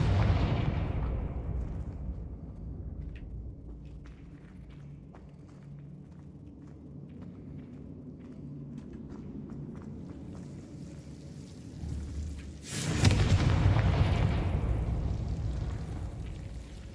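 Confringo fire spells explode in Hogwarts Legacy: a heavy blast that rumbles and fades at the start, a quieter stretch of low rumbling with faint ticks, then a second sharp, loud explosion whose roar lingers to the end.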